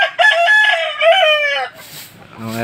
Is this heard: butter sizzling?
no